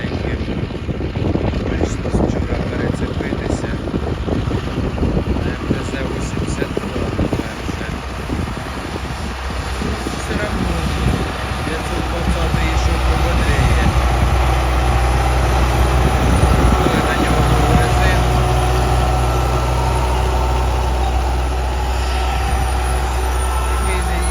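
A 30-year-old 1994 MTZ-82 tractor sowing corn in a field gives a steady, rumbling engine drone that grows heavier midway, with voices talking over it.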